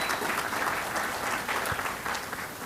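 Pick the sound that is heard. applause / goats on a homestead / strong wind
applause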